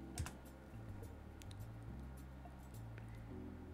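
Fingers tap a computer keyboard while entering commands in AutoCAD, a faint, quick patter of key clicks over a low background hum, close to the microphone.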